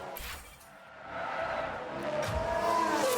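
Formula One cars race in F1 Manager 22 during a Williams overtake, with a high engine whine swelling and shifting pitch as the cars pass close by, and no talk.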